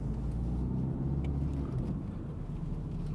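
A car engine accelerates during a driving lesson, heard from inside the car as a steady, loud low rumble of engine and road noise.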